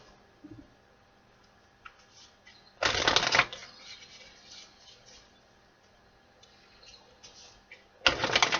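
Tarot cards are shuffled in two brisk riffling bursts, the first around a second long and the second starting near the end, with quiet room noise between.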